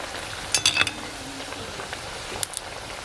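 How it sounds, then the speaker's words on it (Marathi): Dal vadas fry in hot oil in a pan on a wood-fired stove, a soft sizzle underneath a few quick metallic scrapes and clinks as the fritters are flipped. "आता आपण दुसरी बाजू शेकून घेऊया उलटे करते परतून घेते"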